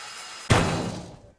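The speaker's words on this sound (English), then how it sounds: "Still got the angle grinder" An angle grinder cutting through metal in Ship Graveyard Simulator 2 sets in abruptly as a loud, harsh burst, then fades away over about a second, with nobody talking.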